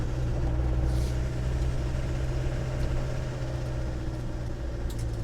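Steady low drone of a 1997 Land Rover Defender 110 with the 300Tdi diesel running on the road, a continuous loud engine and road rumble with no clear shift transient and no talking.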